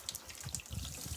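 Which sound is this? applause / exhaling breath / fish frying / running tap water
running tap water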